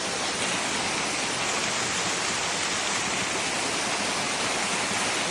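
Waterfall at DeSoto State Park in Alabama, heard from near its base as a loud, steady broadband rush of falling water with no voices.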